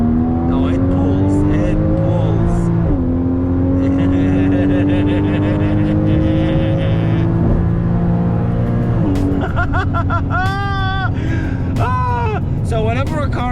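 A 2015 Porsche Cayman GTS engine pulls hard through the gears, its loud rising whine dropping at each shift before climbing again into second gear, with a voice speaking over it.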